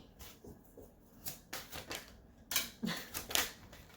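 Lenormand tarot cards being shuffled by hand, heard as bursts of crisp rapid riffling and slapping that come in irregular clusters, close and growing louder toward the end, with no talking.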